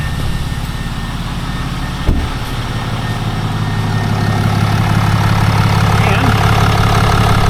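A 2019 Ram pickup's engine idles steadily just after a fuel filter change, a continuous low rumble with a smooth, even hum that swells slightly louder partway through, one brief knock near the start and a single short word spoken.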